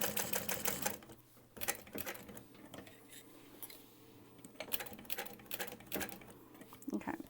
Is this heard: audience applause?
no